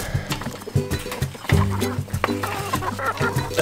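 Several escaped chickens cluck and squawk close by in repeated short calls, with scuffling and other noise mixed in.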